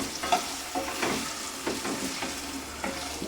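Two hundred grams of small shallots frying and being stirred in a new pan for crab curry: a steady, close crackling sizzle broken by repeated scraping stirs, with no voices.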